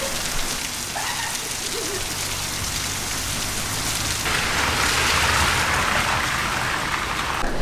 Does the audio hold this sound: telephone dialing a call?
no